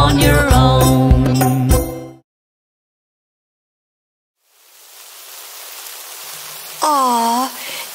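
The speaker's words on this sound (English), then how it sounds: "Aw, it's raining." Soft, steady hiss of cartoon rain fading in after a musical passage ends and a stretch of silence, continuing evenly to the end with a brief sung or voiced tone over it.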